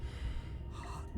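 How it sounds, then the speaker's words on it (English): A character gasps sharply for breath in the video game Slay the Princess, a single close, breathy intake followed by heavy, snorting breathing that fills the short moment. "your eyes shoot open as you gasp for breath"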